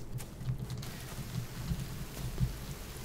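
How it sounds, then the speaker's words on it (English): Rain falls steadily in the survival video game The Forest, a constant hiss with low rumbling thunder swelling and fading beneath it, quiet and distant, with no voices. "I guess that's lightning."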